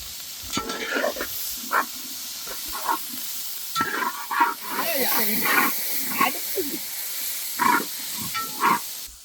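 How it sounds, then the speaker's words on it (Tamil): Onion and tomato sautéing in a pan for quail cashew pepper thokku, a steady sizzle with intermittent stirring scrapes, with a voice talking at moments over the cooking. "இந்த வெங்காயம் தக்காளி வதக்கும் போது"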